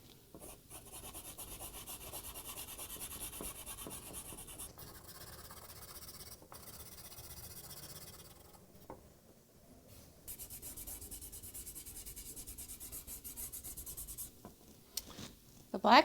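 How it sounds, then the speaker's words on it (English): Charcoal shades on paper for a bird drawing, a steady soft rasping rub that runs almost unbroken with brief pauses, close and quiet, with a few louder scrapes near the end. "So I'm going to take this charcoal and shade it in."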